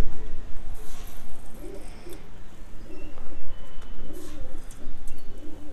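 Pigeons coo repeatedly in soft, low, rhythmic calls while being fed, with a steady background hiss and occasional faint chirps over the clip.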